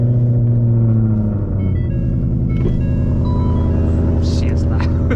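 FBO Ford Mustang S650 GT, a 2024 model, its engine giving a loud deep idle rumble up close, settling, then rising in a brief rev, with a voice speaking over it.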